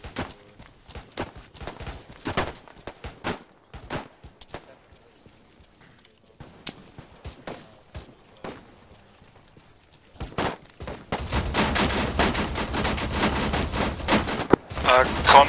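Gunfire in a military video game, scattered single shots early on, then a dense, continuous burst of rapid firing near the end.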